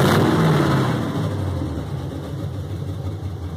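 A Box Chevy car engine running steadily, a loud close idle that starts with a brief rev and then settles into an even, continuous rumble.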